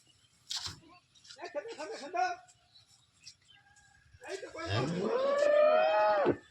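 Cattle at a market moo at a truck loading area, a few short lowing calls at first, then one long, loud rising moo close by.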